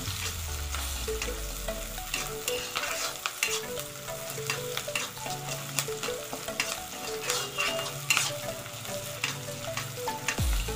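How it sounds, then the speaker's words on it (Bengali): Onions frying in a pan for Maggi noodles with winter vegetables, a continuous close sizzle with bright crackles and pops throughout, no voices. "দেখতে পাচ্ছ পেঁয়াজটা ভাজা হয়ে গেছে"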